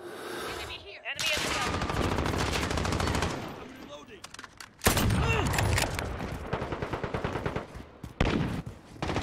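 Loud video game gunfire, rapid automatic bursts and sharp repeated shots from a weapon fired at close range, near and dominant, broken by brief pauses, with no clear speech over it.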